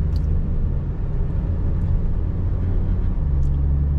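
A 2016 Nissan Almera 1.5 V automatic sedan driving on a road, a steady low engine and road rumble heard from inside the car, continuous and fairly loud with no talking.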